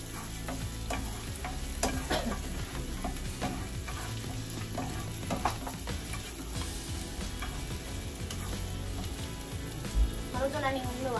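Adobo ingredients sizzle and fry in a pan while being stirred, with scraping utensil clicks over a continuous frying hiss; people talk over the cooking.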